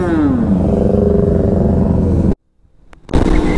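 Racing motorcycles roar past at Clark International Speedway during an endurance race, a loud high-revving whine with a falling pitch sweep, cut by a brief near-silent gap before engine noise returns strongly.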